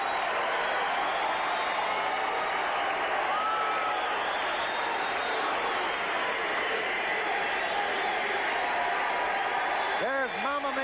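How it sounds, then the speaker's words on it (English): A packed boxing arena crowd in Warren, Ohio roaring and cheering for Ray Mancini after the final bell of a 1981 fight, a dense, sustained wash of noise under a broadcaster's talk. "The crowd acknowledging Ray Boom Boom Mancini."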